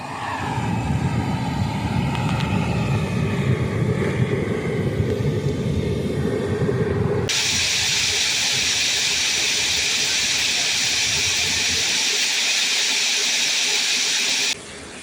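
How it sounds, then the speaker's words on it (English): A homemade turbojet engine built from junkyard supplies, with a reworked spark plug: a churning low rumble gives way abruptly to a loud, broad roaring hiss as it ignites, holding steady before cutting off at the end. "This time I had ignition,"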